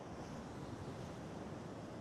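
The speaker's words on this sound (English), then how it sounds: "this surge, there's a lot of power in this waves as well" Powerful ocean waves surge onto a Perth beach in a steady, broad wash of surf, mixed with wind buffeting the microphone, with no talking.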